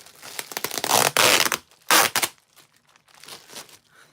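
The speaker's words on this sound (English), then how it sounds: "It's like unwrapping a Christmas present." Wrapping being torn and crinkled open on a package, in irregular bursts of rustling and ripping with two louder tearing pulls, then quieter crackling, no talking.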